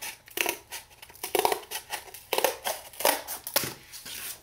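Scissors snipping through paper for a mixed-media art piece, a run of crisp close cuts in uneven rhythm with soft crinkling between strokes.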